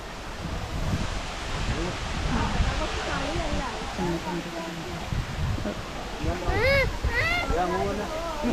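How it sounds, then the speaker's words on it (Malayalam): A waterfall roars steadily and broadly at close range while several people talk over the constant rushing water. "അപ്പൊ ഇതാണ് കേട്ടോ വെള്ളച്ചാട്ടം കണ്ടില്ലേ"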